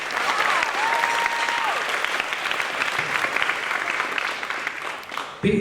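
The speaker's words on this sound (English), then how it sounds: "So, give them a round of applause." An audience at a school band fall concert claps steadily and fairly loudly throughout, dense sustained applause with a faint whistle near the start, then it stops abruptly at the end.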